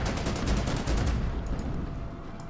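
A Renault tank fires on an anti-aircraft gun in the strategy game Order of Battle, heard as a rolling burst of rapid shots that peaks early and then trails off into a fainter crackle.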